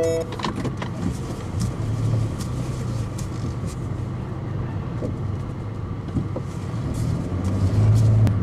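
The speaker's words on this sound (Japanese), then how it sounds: "ちょっと出にくい駐車場からバックで、出ようと思います。" A Honda N-BOX Custom backing out of a parking lot, with a low steady engine hum and faint mechanical sounds, moderately quiet and continuous with a slight swell near the end.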